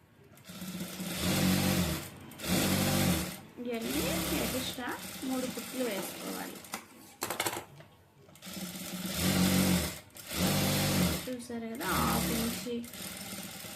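Sewing machine stitching a plain blouse, running in repeated bursts of a few seconds each with short pauses between, loud and close, while someone talks over the stops and starts.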